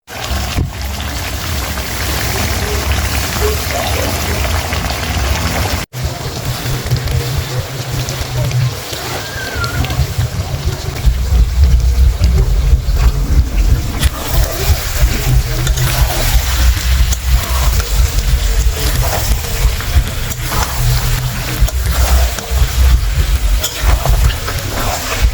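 Mutton being sautéed in a pan for a Bengali-style potato mutton curry, a steady crackling sizzle like rainfall that continues throughout, with a brief dropout early on and heavier low rumble later.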